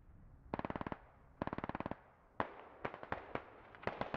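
Gunfire in the video game Squad: two rapid automatic bursts of about eight shots each, then a string of scattered single and double shots, crisp and fairly close against a quiet background.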